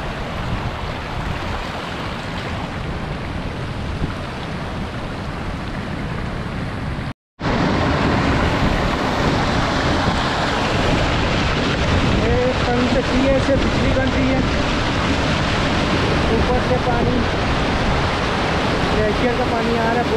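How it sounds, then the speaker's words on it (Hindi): Spring water rushes steadily down a stream feeding Mahudand Lake in Swat's Kalam Valley, a loud continuous wash broken by one brief dropout partway through. "पानी जहाँ से आ रहे चश्मे वो दिखाता हूँ"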